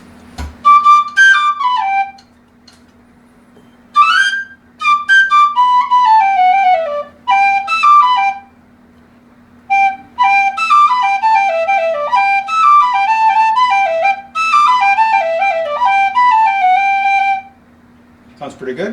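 A handmade Parks tin whistle plays bright, quick melodic runs and trills in several phrases separated by short pauses, close and loud over a faint steady hum.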